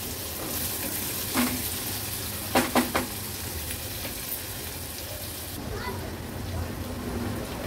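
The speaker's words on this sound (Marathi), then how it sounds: "कांदा पण लसणासोबत छान आपल्याला शिजवून घ्यायचा आहे" Onion and garlic frying together in a pan give a steady soft sizzle with a few sharp clinks of a utensil against the pan, under a voice talking.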